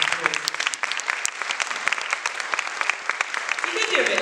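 Audience applause for the panelists at an African women's book launch, a steady mass of clapping hands filling the room, with voices mixed in near the end.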